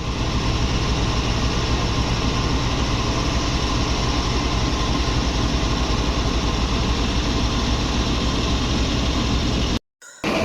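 A diesel locomotive engine idles at Lahore Junction railway station in a constant, loud, rumbling drone that barely changes, with a brief cutout near the end.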